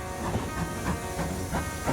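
Steam locomotive of the 030 TB type hauling a suburban passenger train, a continuous hissing, rumbling rail sound with steady rhythmic chuffing pulses, fairly close and even in loudness throughout.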